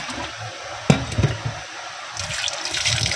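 Water splashes at a kitchen sink while something is rinsed, a close, continuous running and sloshing with a few sharper clatters and splashes, no talking.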